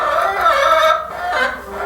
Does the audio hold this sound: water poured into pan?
no